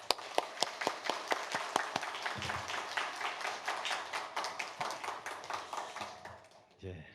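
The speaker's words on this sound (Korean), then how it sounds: "우리 목사님 나오실 때 우리 같이 환영의 박수 하겠습니다." A church congregation claps to welcome their pastor to the front, opening with a few distinct, evenly spaced claps that grow into steady rhythmic applause and then trail off at the end.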